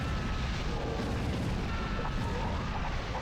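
Meteors cast by warlocks explode in the video game Dungeon Keeper, a dense, continuous rumble of overlapping booms and bursts at steady loudness, with no voices.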